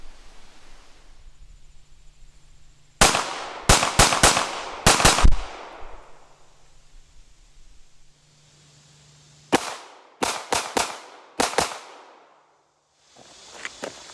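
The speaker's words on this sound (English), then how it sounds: "I'm going to fire one shot at the target on the right, then 3 shots at the target on the left, and then 2 more shots at the target on the right" An IWI Masada pistol fires at range targets in two quick strings of about five sharp, loud cracks each, separated by a pause, followed by one more shot near the end, with quiet ambience between volleys.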